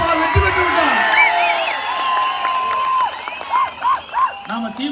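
A crowd at a political rally for an AIADMK gathering, cheering and whooping in a continuous roar under someone speaking loudly into a microphone.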